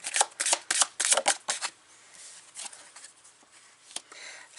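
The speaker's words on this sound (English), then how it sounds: "Let's pull some cards." Tarot cards are riffled and shuffled up close in quick crisp bursts, then softer scattered flicks and slides as cards are drawn, with quiet pauses between.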